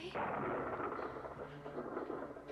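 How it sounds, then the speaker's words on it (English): Thunder rolls as a low, rumbling boom that swells quickly and then keeps grumbling at a fairly faint, distant level with no voices. "Oh, it's thunder, that's all."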